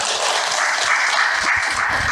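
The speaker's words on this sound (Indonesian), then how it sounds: "Tepuk tangan dulu buat Ketua DKM." An audience at a religious talk gives a round of applause for the mosque committee head, dense steady clapping from many hands filling the brief moment.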